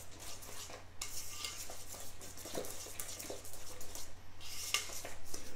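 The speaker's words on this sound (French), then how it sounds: "je viens donner un petit coup de cuillère magique à mon appareil pour mélanger avec les pommes" A spoon stirs apple cake batter with chopped apples in a bowl, giving a continuous soft, wet scraping and churning close up, with occasional light clinks against the bowl.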